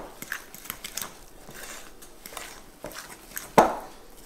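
A spoon scrapes and taps inside a bowl as cookie dough made with butter is stirred, giving irregular soft clicks and scrapes, with one sharper knock toward the end.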